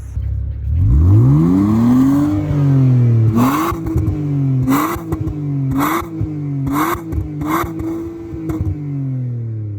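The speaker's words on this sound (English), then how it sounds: "I'm gonna go ahead and give it a couple revs" A car engine with its resonator deleted starts and revs up loudly, then is blipped several times in quick bursts, close and aggressive, settling back to idle between revs.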